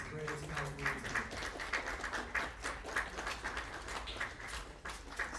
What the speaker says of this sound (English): Give a loud round of applause for you all,